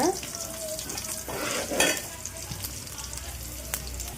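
Onions dropped into hot oil with mustard seeds and cumin, a loud close sizzle that swells and then settles into steady frying, with faint stirring scrapes.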